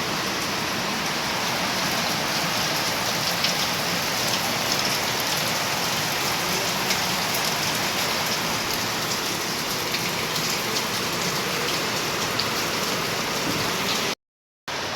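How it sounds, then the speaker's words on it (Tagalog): Heavy typhoon rain pours down steadily in a dense, constant hiss, close and loud, cutting out abruptly just before the end. "Naririnig nyo yan, grabe ang ulan."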